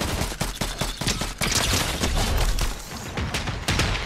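Video game gunfire from Fortnite fills the scene with dense, rapid bursts of shots that keep going almost without a break, loud and close, with a few sharper single cracks mixed in.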